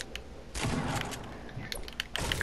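Shotgun blasts in Fortnite, a heavy burst of gunfire followed by scattered booms and thuds, moderately distant and fairly quiet with no talk.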